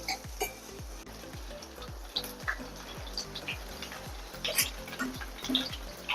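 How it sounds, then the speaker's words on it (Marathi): Vegetables fry in a pan with a soft, steady sizzle, broken by repeated rhythmic scraping as they are stirred, fairly quiet and close. "आणि ते मस्त व्हेजीज आपण फ्राय करत आहे."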